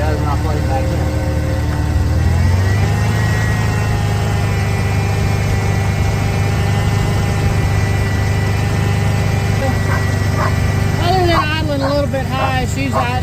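A Ford Bronco engine idles after a timing adjustment, a steady low rumble close to the microphone throughout, while a person talks intermittently over it.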